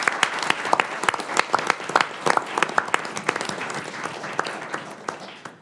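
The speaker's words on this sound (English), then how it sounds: "Please join me in a round of applause in recognizing Doug and Kathy's contribution." Round of applause at a board of trustees meeting, a modest group clapping with distinct individual claps audible in an irregular patter that gradually thins out.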